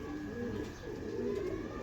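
A golden pigeon coos nearby in low, soft, rolling calls that repeat twice over a steady background hum, with no one speaking.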